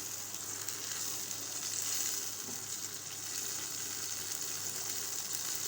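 Tomatoes fry and soften in a pan for aloo bhujiya, a steady, even sizzle with gentle crackling at moderate loudness and nobody talking.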